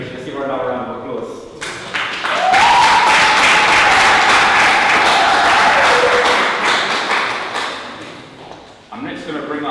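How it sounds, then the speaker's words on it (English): A crowd at a memorial lecture bursts into sustained applause and cheering for several seconds, loud and dense, after a speaker's voice, which returns as the clapping fades. "Let's give her another round of applause."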